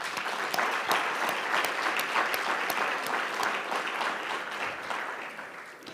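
An audience at a regional government address applauds, a moderately loud wash of many hands with some sharp individual claps standing out, easing off slightly toward the end.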